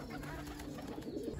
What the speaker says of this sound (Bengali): এই পাশে কবুতরগুলো নাইমা গেছে